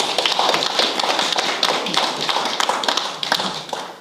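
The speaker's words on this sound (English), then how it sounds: "I'd like us to give her a round of applause as well." Applause fills a borough council meeting room, a few seconds of close, dense clapping from a small crowd that thins slightly toward the end.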